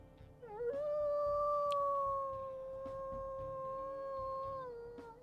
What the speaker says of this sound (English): Let's listen to her howls,